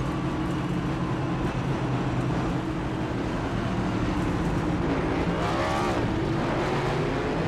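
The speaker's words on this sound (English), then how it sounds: "the one will do his burnouts in celebration" Race car in the iRacing sim doing celebratory burnouts at Chicagoland after an AREA Cup Series race, a steady loud engine drone with a rising whine near the end, no voices.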